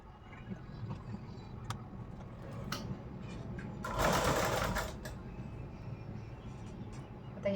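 A sewing machine stitching folded blouse fabric triangles, a continuous close mechanical whirring with light ticks that swells into a louder burst partway through, then settles back, with no voices.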